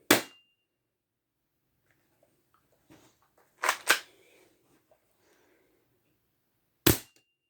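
A Tokyo Marui airsoft revolver fires through a chronograph, giving a sharp pop, a quick close pair of shots, then one more, each loud and abrupt against near silence.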